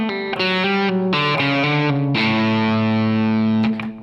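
A distorted electric guitar plays a quick melodic run from a song, several picked and sliding notes followed by a longer held chord, loud and up close.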